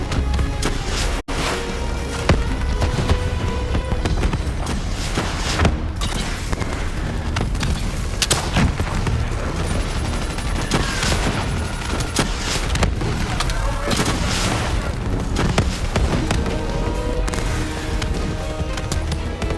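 Call of Duty Black Ops 3 combat: a dense, loud barrage of gunfire and blasts runs continuously, with booms and mechanical clatter layered throughout.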